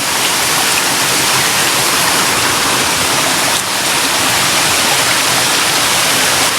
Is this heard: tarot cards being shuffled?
no